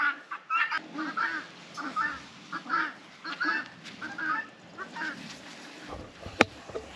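Guinea fowl on a rabbit farm call in a rapid, repeated series of harsh, cackling cries. The calls are fairly close and continuous, with a sharp knock near the end.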